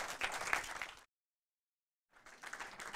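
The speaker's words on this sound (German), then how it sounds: "Großen Applaus" An audience at a German film event applauds a director, with a burst of lively clapping that cuts to about a second of total silence, then resumes just as full.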